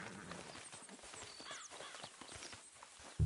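A horse in Red Dead Redemption 2 walks along with soft, steady hoof clip-clops beneath ambient outdoor game sound, ending in a sudden louder thump.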